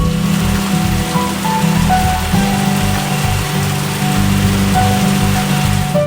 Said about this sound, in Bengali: কৃত্রিম রেইন ফরেস্ট যেখানে শোনা যায় মায়াবী বৃষ্টির শব্দ